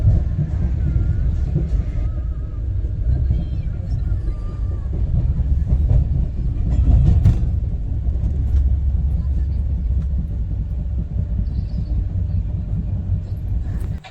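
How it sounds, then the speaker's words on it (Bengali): A train on the way to Puri rolls along the tracks after slowing down, giving a steady, close rumble with faint clickety-clack that carries on throughout; no talk is heard. "হ্যাঁ, চলতে শুরু হয়েছে ট্রেনটা।"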